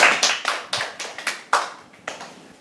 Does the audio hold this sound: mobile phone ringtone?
no